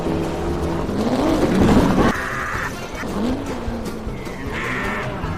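A cartoon race car, Lightning McQueen, revs its horsepower engine, with a loud rising roar, a tire squeal and shifting engine tones over background sound.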